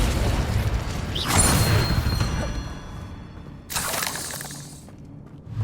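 Confringo spell blasts in Hogwarts Legacy: two loud bursts of broadband crackling impact, the first around the middle and a second shorter one later, over a low game soundscape rumble.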